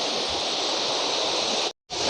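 Birthi Fall, a waterfall plunging from a great height off a mountainside between Kapkot and Munsiyari, gives a loud, steady roaring rush of water that drops out for a moment near the end.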